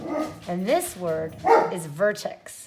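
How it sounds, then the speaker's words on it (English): A pet dog barks and yips several times in quick bursts, close and loud, overlapping a person talking during an at-home lesson. "sorry about my dog"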